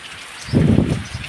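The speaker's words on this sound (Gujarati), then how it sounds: "આ પોઝિશનથી અત્યારે વરસાદ વહે" Rain falls in a Gir village in the morning, a short burst of dense, close patter swelling briefly and easing back.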